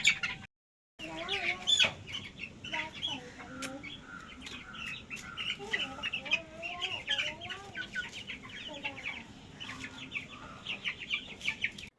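Hens cluck busily at a poultry farm, with a dense chorus of overlapping clucks and chirps running throughout, plus a brief gap of silence near the start.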